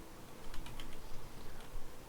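Quick, light typing on a computer keyboard, a soft patter of keystrokes close up, with a faint background hiss.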